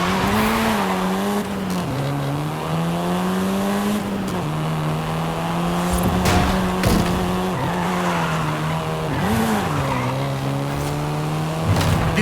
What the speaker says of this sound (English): This version is the Volkswagen Golf